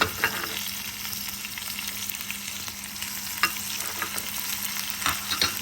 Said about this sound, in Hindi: ये छोटा छोटा पतला पतला कटा हुआ जो लहसुन है ये भी डाल देंगे